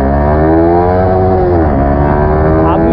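Motorcycle engine held against its speed limiter in first gear on a road, a loud, steady high rev with a brief dip and recovery near the middle, continuous and close.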